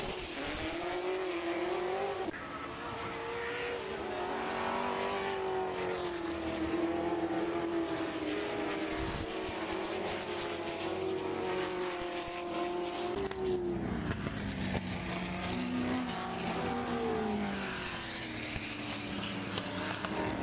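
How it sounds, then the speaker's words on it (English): Ford GT40 race cars roar around the Goodwood Revival circuit during the 2013 Whitsun Trophy one-make race, with a loud, continuous engine note whose revs climb and fall as the cars press on, and no talk over it. "allowing car number 5 as Adrian Newey handed over to Kenny Brack to take the lead."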